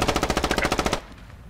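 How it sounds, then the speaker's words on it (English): A mounted machine gun in the video game Squad fires a rapid burst of about a dozen loud, evenly spaced shots for one second, then stops abruptly, leaving a faint background. "how do you use a mounted machine gun?"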